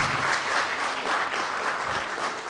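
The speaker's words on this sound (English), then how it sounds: "Please, one more round of applause," A sustained round of applause from an audience at a launch ceremony, many hands clapping densely and evenly throughout, fairly loud and close, with no talking on top.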